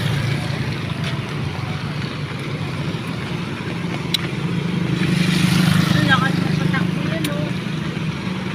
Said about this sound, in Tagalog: Malakas ang makina niyan.